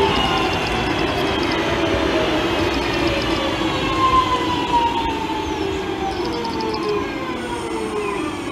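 Electric multiple unit 323 219 pulls away on a service to Walsall, its traction motors whining in gliding tones that shift in pitch over a loud, continuous rumble of wheels and rails.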